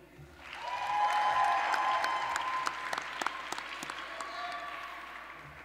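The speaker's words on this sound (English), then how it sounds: "Round of applause for all of our bachelors." A commencement audience breaks into applause, the clapping swelling quickly and then holding steady with a few sharp individual claps standing out; faint voices and a lingering tone run underneath.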